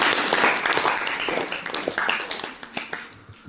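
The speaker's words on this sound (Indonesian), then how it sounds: "Kita beri tepuk tangan untuk kelompok 1." Dense clapping from a classroom crowd greets the first student group, a steady burst of many hands that thins toward the end with a few scattered claps.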